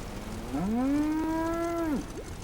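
A cow in the Far Cry New Dawn video game gives a single long, loud moo that rises and holds steady for about a second and a half over faint game background.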